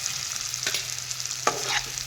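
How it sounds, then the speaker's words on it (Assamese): Fried brinjal and softened onions are stirred in a pan, a couple of quick scraping turns over a steady oily sizzle. "দি নিজৰে তল ওপৰ কৰি এফালৰ পৰা লৰাই লৰাই যাম"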